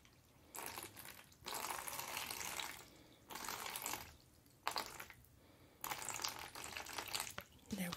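Water from a tap runs into a container at a nail salon, coming in several steady bursts of rushing, splashing flow separated by brief pauses, close and moderately loud with no talking.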